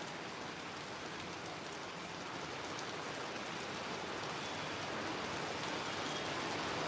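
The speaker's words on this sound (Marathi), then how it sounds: "हा अवकाळी असा पाऊस आहे जोरदार पडतोय" Heavy unseasonal rain pours down steadily in Virar, a dense, even hiss of drops on surfaces that holds constant with no breaks and no voices.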